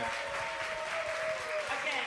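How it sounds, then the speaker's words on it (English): Steady applause from an audience at a Seattle candidate forum, a dense even patter of clapping that holds without a break for a couple of seconds. "A round of applause for our second group of candidates, everyone"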